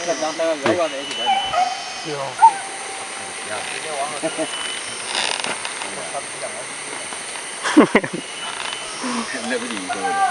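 Hunting dogs bark in bursts during a hunt in tall grass, mixed with voices talking throughout.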